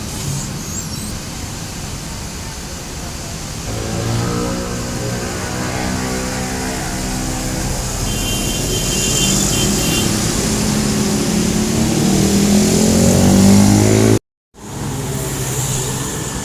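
A bus engine rumbles and rises steadily in pitch as it arrives at a roadside stop in Cengkareng, West Jakarta, ending with a brief cut and steady idling.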